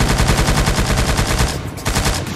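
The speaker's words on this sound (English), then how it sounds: "You can shoot while driving." Rapid automatic gunfire rattles in a steady fast rhythm during a drive-by shooting in a Roblox game, loud and close, with a brief gap near the end before the bursts resume.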